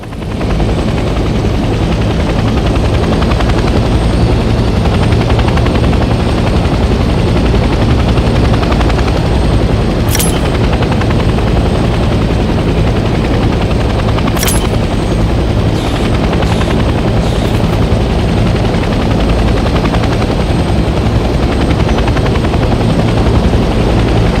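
Helicopter in the Vietnam-era shooter Hell Let Loose: Vietnam, airborne in flight, its rotor and engine drone loud and steady throughout with a couple of brief sharp clicks over the noise.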